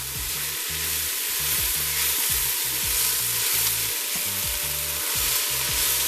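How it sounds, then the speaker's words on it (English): Vegetables sauté in an Instant Pot with a steady broadband sizzle, while regular low thumping pulses run underneath throughout; no one speaks. "this has been sauteing for about 10 minutes now."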